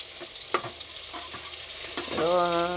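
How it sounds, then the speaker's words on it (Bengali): Ripe mango chutney sautéed in a pan with five-spice, dry red chillies, turmeric and salt: close, continuous sizzling broken by spatula scrapes, with a voice beginning briefly at the end. "পাঁচফোড়ন দিয়েছি, শুকনো লঙ্কা দিয়েছি, হলুদ নুন দিয়ে এখন ভালো করে কষছি, মানে আমটাকে নরম করব"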